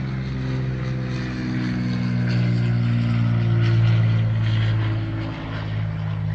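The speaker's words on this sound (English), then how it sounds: "There goes the plane." An airplane passes overhead above a backyard on a lightly windy day, a steady droning engine hum swelling to a peak midway and easing off, with no talking.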